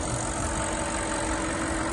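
An Audi V8 rated at 444 brake horsepower idles under its open bonnet with a steady, close, loud rumble that holds even throughout, with no talk over it.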